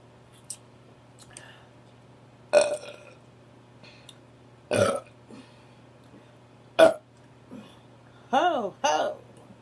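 Loud, deep burps from a person, several separate belches spread out with pauses between them, close to the microphone and over a low steady hum.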